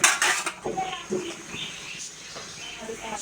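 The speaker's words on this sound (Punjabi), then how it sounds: "ਹੁਣ ਆਪਾਂ ਚੰਗੀ ਤਰ੍ਹਾਂ ਹਿਲਾ ਲਈਏ।" A metal spoon clinks and scrapes against a cooking pot while stirring pounded garlic and ginger masala for aloo gobi gosht curry. Several sharp clanks come at the start, then softer scraping follows, with a voice faintly present.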